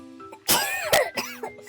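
One person coughs sharply and then clears their throat several times, close up in a quiet room.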